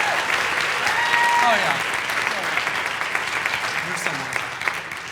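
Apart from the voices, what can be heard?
audience applause for the advisors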